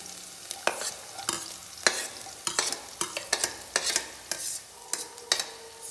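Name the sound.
green chillies being added and stirred in pan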